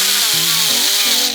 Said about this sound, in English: we need to clean up this edge that we're going to be welding against.